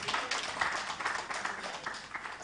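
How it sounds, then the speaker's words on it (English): Audience clapping at a gathering, steady dense applause from a room of people, moderately loud and continuous with slight swells, no voices over it. "yes, you can clap."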